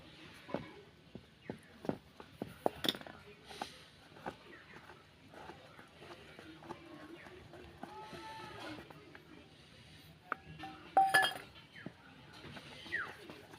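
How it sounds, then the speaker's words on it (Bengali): Semolina cake batter with flour is mixed in a bowl, giving a string of clinking, scraping spoon strokes with uneven rhythm, close and fairly quiet, with a louder burst of clatter near the end. "অল্প অল্প করে দিয়ে মিশিয়ে নেব।"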